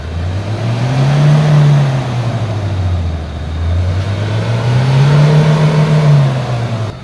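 A Ford Ranger 2.2 manual-transmission engine with a heavy-smoke, low-power fault revs twice toward 4,000 RPM, each rev a loud, close swell that climbs and falls back to idle with no talking.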